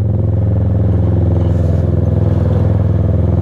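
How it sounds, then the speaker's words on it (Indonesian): Loud motorcycle engine running steadily while riding on the road toward Baguio in cold weather, a constant deep droning rumble with a faint rattling clatter throughout, close and dominant with no talking. "Ano, napakabulabog ng motor natin."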